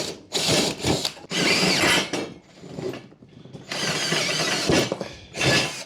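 A hand-held drill boring a 3/8 hole through a metal part into a table below, in loud grinding bursts of about a second each, separated by short pauses, heard close up with no talking.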